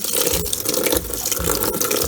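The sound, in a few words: Kenmore laundry center washer filling with cold rinse water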